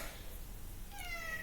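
A short cat meow rises near the end, after a quiet stretch of low background noise.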